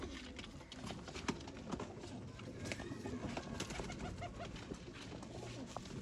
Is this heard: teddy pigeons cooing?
yes